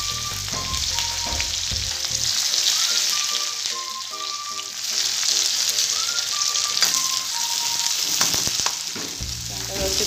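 Onions sauté in hot oil with cumin and mustard seeds, a continuous close sizzle and crackle running under faint background music.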